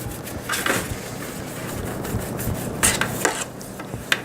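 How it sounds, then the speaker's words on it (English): A brush spreads olive oil around a pizza pan, making a continuous soft rubbing and scraping that is close by, with a few light metallic clinks and taps near the end. "A little bit of olive oil on the pan, brush it around, spread it out"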